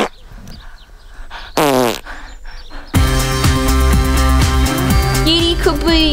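A comic fart sound effect played onto a cake in a puppet comedy sketch, a short loud sputtering burst standing out against music and other effects in a busy mix.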